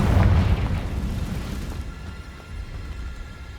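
A Confringo blasting spell going off in Hogwarts Legacy, one loud booming burst at the start that rumbles and fades into a lower, lingering wash of debris noise.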